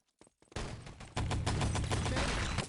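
A Panzer rocket launcher fired in a first-person shooter game, a sharp burst followed by a loud roaring blast and rumbling explosion filling the rest of the moment.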